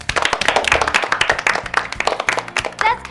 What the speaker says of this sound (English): The sound of hands clapping, isn't it?